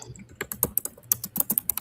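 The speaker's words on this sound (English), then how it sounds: "I'm typing as you talking." Rapid typing on a computer keyboard, close and crisp, with uneven bursts of key clicks and a faint voice in the background.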